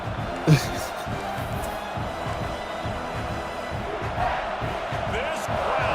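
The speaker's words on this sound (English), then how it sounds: "This crowd full throat, sweating the eardrums and letting him know it's going to be a long day." A football stadium crowd roars as a steady, loud wash of noise, with a commentator talking over it the whole time.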